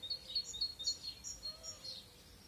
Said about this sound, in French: Je vais vous laisser juste 2 minutes pour profiter du chant des oiseaux